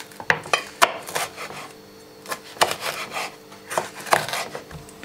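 A knife cuts a red bell pepper on a board, making irregular crisp slicing crunches and knocks against the surface, close and fairly quiet, with brief pauses between cuts.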